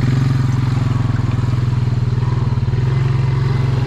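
A four-wheeler ATV engine runs steadily beside a beaver-made swamp. Its loud, close, low pulsing putter holds even throughout with no talking.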